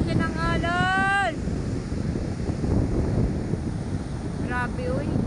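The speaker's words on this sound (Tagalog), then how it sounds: "Grabe naman ang laki ng alon" Large ocean waves and strong wind during a super typhoon roar in a loud, continuous rush with heavy wind buffeting on the microphone, while brief whistling or voice-like tones cut in near the start and again near the end.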